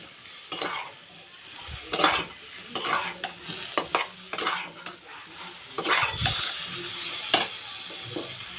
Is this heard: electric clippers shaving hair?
no